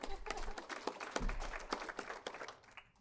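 Scattered applause from a room audience at a Cape Cod young professionals event in Falmouth, greeting Joe Elia at the back of the room; uneven, moderately faint claps that thin out toward the end.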